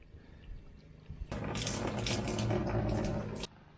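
Water gushes into a cabin's water tank, starting abruptly after a quiet lead-in, then a loud, steady splashing rush for about two seconds before cutting off sharply.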